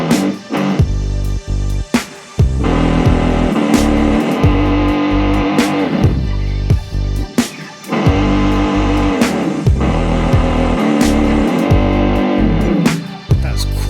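Electric guitar through an MXR Classic 108 Fuzz Mini and a Boss Super Octave OC-3 pedal, loud, thick, buzzing fuzz with a heavy low octave, played in sustained phrases broken by short gaps, with no talking.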